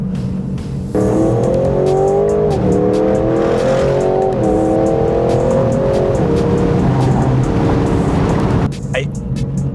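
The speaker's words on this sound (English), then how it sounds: "I really, really, really like the V8 noise in the new Vanquish though." An Aston Martin Vanquish V8 engine revs hard and loud, its pitch climbing through several gear changes, with a voice talking over it.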